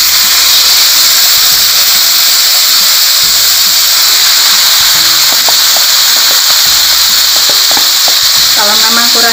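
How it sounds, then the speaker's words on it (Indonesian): Marinated beef for teriyaki hitting a hot pan, a loud, steady frying sizzle and hiss that fills the whole stretch, with faint stirring clinks and a voice briefly underneath. "sekarang ini daging tadi yang sudah dimarinasi nih kita masukkan"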